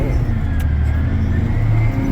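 Cat 980F wheel loader driving in road gear through 6-8 inches of snow, a steady loud low diesel drone with constant engine note and no breaks.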